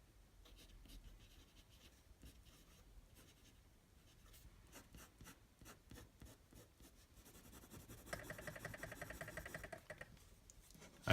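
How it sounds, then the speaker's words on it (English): Extra fine nib of a Lamy Safari fountain pen scratching across paper with blue ink, a steady run of quiet close strokes and lifts that grows busier and louder toward the end. "So the second pen is Alamy Safari with an extra fine nib, and here we go."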